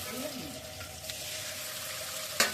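Shrimp coated in salt and turmeric fry in hot oil with a close, steady sizzle, ending in a sharp splattering burst.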